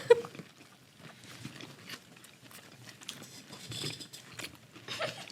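A person chews food close to a microphone, giving soft, irregular crunching and biting clicks at low volume with no talk over it.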